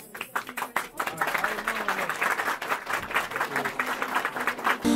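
Applause at a Turkish engagement ceremony after the ribbon cutting: a crowd claps continuously and fairly close, with some voices mixed in.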